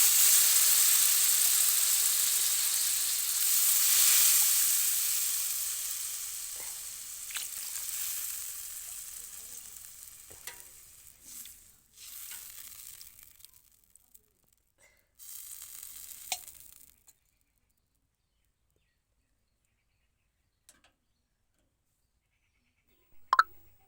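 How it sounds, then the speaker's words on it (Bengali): Loud sizzling burst as water hits sautéed rohu fish and potato curry in a hot pan, hissing strongly then fading over several seconds, with a few faint clinks and a later brief knock after silence. "আমার কষানো হয়ে গেছে এরপর আমি জল দিয়ে দিয়ে দেবো"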